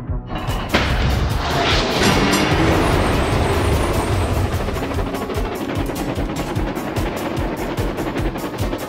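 A train engine in the Thomas & Friends Go Go Thomas game runs with a loud, steady rumble and a rapid rhythmic clatter that pulses throughout, starting with a sharp burst.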